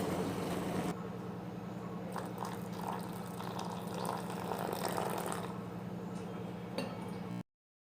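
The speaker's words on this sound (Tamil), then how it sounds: "கொதிக்கிற தண்ணி எடுத்து இப்போ அதில் கொஞ்சமாக ஊற்றிக்கலாம்" Boiling water is poured in a steady stream onto coarsely ground black kavuni rice, with light splashing and a clink of vessels over a constant low kitchen hum.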